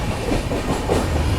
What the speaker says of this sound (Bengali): আমাদের কাঞ্চনকন্যা এক্সপ্রেস শিয়ালদা স্টেশন থেকে বেরিয়ে 13 কিলোমিটার পথ অতিক্রম করে তার প্রথম হল্ট দক্ষিণেশ্বর স্টেশন।